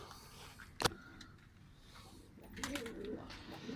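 Pigeons in a loft give low, soft coos at a distance, faint and intermittent, with a sharp knock early on and some quiet background rustling.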